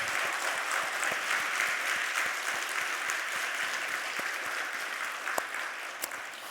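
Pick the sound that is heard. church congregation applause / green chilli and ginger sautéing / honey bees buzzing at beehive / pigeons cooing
church congregation applause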